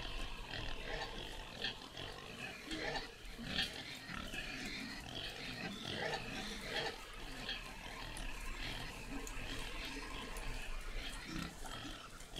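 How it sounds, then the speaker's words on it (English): Pigs riding in the back of a lorry in a truck driving video game grunt and squeal continuously at low volume, a dense, busy stream of animal noise. "Pigs in lorry."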